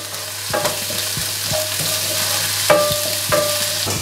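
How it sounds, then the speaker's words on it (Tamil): Steady sizzle of spices, ginger and garlic frying in hot oil, with occasional clinks and scrapes of a spoon stirring the pan. "அது பொரிஞ்சு கொண்டு இருக்கே"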